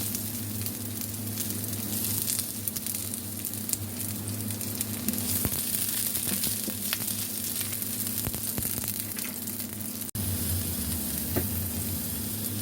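Chopped onion sizzling in hot oil in a pan while a crab dish is fried, a steady loud crackle and hiss throughout with no talking.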